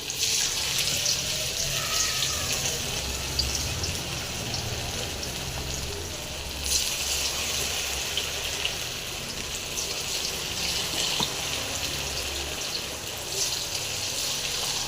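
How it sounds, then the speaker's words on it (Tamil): Marinated cauliflower 65 pieces frying in hot oil in a home kitchen, a steady loud sizzle and crackle that holds throughout, close and with no talking. "எண்ணெய் காஞ்சிடுச்சிங்க ஒரு பீஸாக போட்டுடலாம்"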